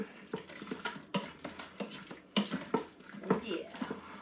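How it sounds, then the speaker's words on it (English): Clam chowder being stirred in a pot, a series of irregular scraping and clinking utensil strokes against metal, fairly close and quiet, with a voice talking faintly in the background. "Let's give it a stir."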